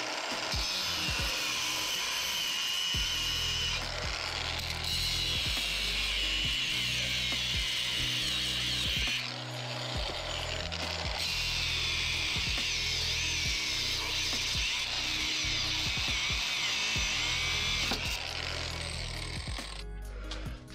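A power tool cuts through a bolt on the engine crossmember of a 1998 Subaru Impreza 2.5RS, a loud, continuous, harsh grinding whine, close up, with brief pauses before the cutting resumes.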